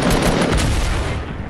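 A grenade explodes in the video game Fortnite, a single loud, close blast that rumbles and fades over about a second and a half.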